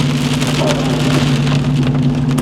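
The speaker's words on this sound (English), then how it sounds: "It's just pouring rain." Heavy rain pouring down during a rainy-day drive along a road, a loud continuous hiss of drops drumming on the surface, with a steady low engine hum underneath and no talking.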